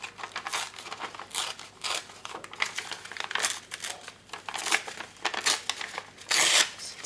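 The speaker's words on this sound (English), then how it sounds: "I'm just tearing." Paper scraps being torn by hand for a craft booklet, repeated close rips and crinkles in irregular bursts, ending in a longer louder tear, with no talking.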